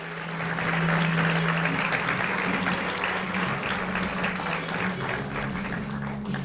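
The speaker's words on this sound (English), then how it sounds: "Let's give her a round of applause." Sustained applause from a crowd at a school fashion show, loud and steady, with a low hum underneath and no talking.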